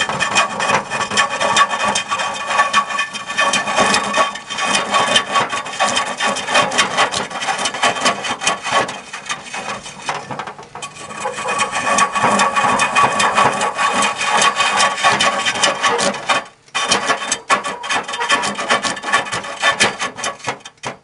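A wooden bowl being turned on a large 150 hp lathe gives a steady, loud rasping scrape of the cutting tool against spinning wood. It runs almost continuously and close up, with a couple of brief pauses and no talking.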